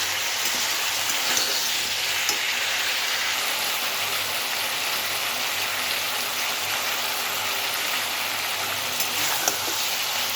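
Vegetable curry fries in a pan with a steady, dense hiss of sizzling oil, close and even throughout, with only faint occasional scrapes and no talking.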